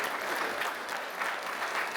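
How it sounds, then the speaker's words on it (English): An audience at a voice-acting panel at Okicon convention in Norman, Oklahoma claps in a dense, steady burst of applause that fills the room briefly, lively and close throughout. "Give that a round of applause."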